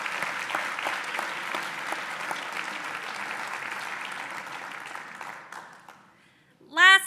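Audience applause for a group being thanked at a school-year celebration of excellence, steady clapping that fades out after about six seconds, followed by a brief voice at the end.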